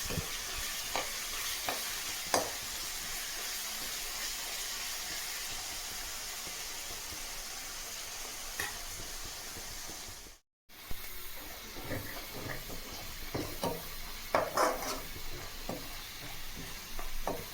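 Sliced onions and ginger-garlic paste frying in a pan for a gongura prawn curry, a steady close sizzle with occasional stirring scrapes and clinks, briefly cut off near the middle before resuming.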